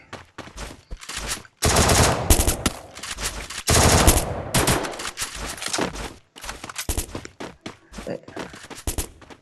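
Thompson submachine gun firing in Garena Free Fire: scattered single shots break into two long, loud, sustained bursts, then more choppy shots, all up close with no talk.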